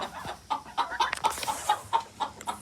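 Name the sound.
chicken clucking at breakfast feeding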